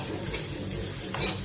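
Onions frying in a pan with chili powder, salt, ginger-garlic paste and turmeric for a chicken liver curry: a continuous close sizzle with scraping stirring strokes and a brief louder clatter near the end.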